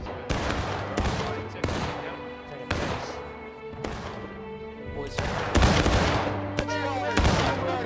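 Gunfire in a war video game: heavy, sharp rifle shots crack in irregular bursts over a low rumbling battlefield, close and loud, with the sound growing denser toward the end.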